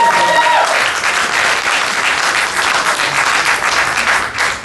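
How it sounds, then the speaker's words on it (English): A crowd applauds steadily at a film premiere, dense clapping throughout at a loud, even level, with a brief tone at the very start. "can everybody just clap for him?"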